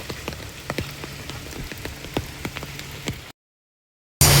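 Rain patters steadily on a surface, with sharper drops ticking at irregular moments, close and even, then cuts to silence before a brief loud burst at the end.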